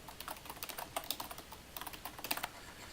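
Quiet clicks of keys on a computer keyboard as a password is typed, a fast uneven run of taps with a short pause midway, close and soft.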